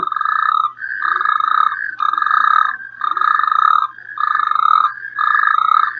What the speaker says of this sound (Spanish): Los anfibios que pueblan este medio marcan sus territorios sin parar de cantar.